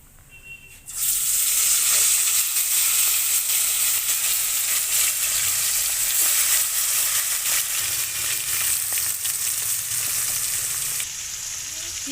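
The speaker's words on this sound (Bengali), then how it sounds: "কড়াই তেল দিয়ে দিয়েছি, এবারে ম্যারিনেট করা চিকেনগুলো ভেজে নেব।" Marinated chicken hits hot oil in a kadai, and a loud, continuous sizzle starts about a second in. It holds steady and drops slightly near the end, with no talking.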